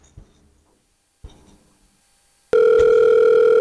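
A telephone in a home setting starts ringing partway through, a loud, steady electronic ring tone that follows a few soft taps and near silence.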